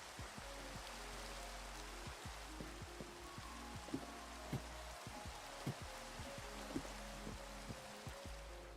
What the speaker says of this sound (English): Thank you very much for this rain.